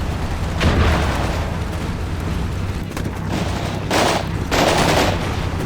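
A building being torn apart by gunfire in Combat Mission Cold War, with bursts of shots and rumbling crashes rising over a dense, noisy battle backdrop, loud and close.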